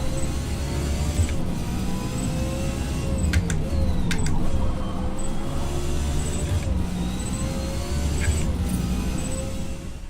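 A racing car engine hums and revs in Forza Motorsport during S Class racing, a steady loud drone with shifting pitch and a few sharp mechanical clicks, with no one talking.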